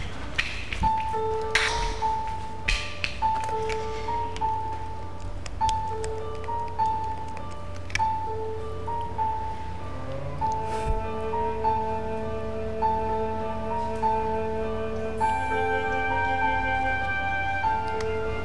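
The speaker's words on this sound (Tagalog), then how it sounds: "Ring lang ng ring, pero hindi niya sinasagot." A phone rings over and over with no one picking up, a repeating electronic tone pattern playing steadily at moderate volume throughout, with no speech.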